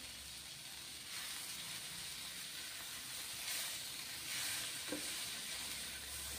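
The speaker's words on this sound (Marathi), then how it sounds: "तर बदाम ही आपल्याला व्यवस्थित परतून घ्यायचे आहेत।" Almonds and cashews sizzle in oil over low heat, a steady, soft frying hiss that stays fairly quiet and even throughout, with no voices.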